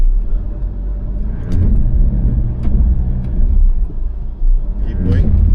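A 2025 Jeep Meridian 4x4 creeps over a crossover obstacle on rugged terrain, a steady low engine rumble with bumps and clunks from the suspension, close and continuous, while people talk over it.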